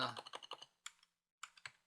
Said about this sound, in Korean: console.log를 사용해서 헬로 월드라고 한 줄짜리 타이핑했다.